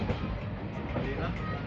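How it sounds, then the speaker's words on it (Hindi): A passenger train pulls into Pantnagar station, a steady dense rumble and rattle of carriages, continuous and close throughout. "अभी हमारी ट्रेन आई है पंतनगर"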